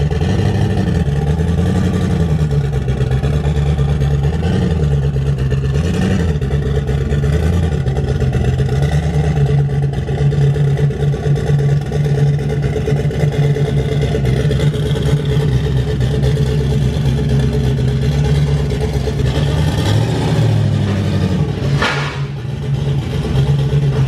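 A turbocharged nitrous Camaro with a Huron Speed turbo kit runs loud and close on a dyno, its engine droning steadily with repeated rising and falling revs and a brief surge near the end.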